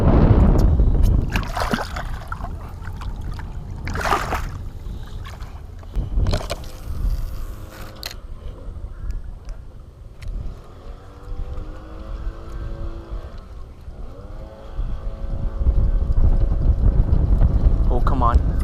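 A fishing boat on saltwater rocking in a passing motorboat's wake, with water sloshing and slapping against the hull in uneven surges, mixed with wind, thumps and someone speaking.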